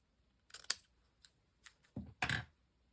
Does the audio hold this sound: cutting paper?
yes